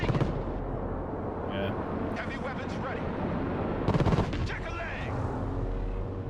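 Heavy weapons gunfire in the video game Broken Arrow, a steady rattle of shots and blasts that sits under voice chatter, with a sharper loud burst near the middle.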